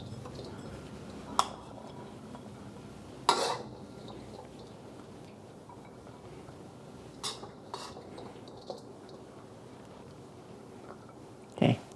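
Sticky rice spooned from a pot into a serving bowl, with a few sharp metal spoon clinks and scrapes on the cookware spaced several seconds apart over a quiet kitchen background.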